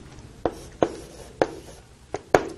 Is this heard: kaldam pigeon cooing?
no